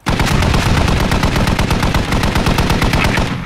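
Rapid automatic gunfire from the tactical shooter game Squad rattles continuously and loudly for the whole stretch, dense bursts of close shots with no pauses.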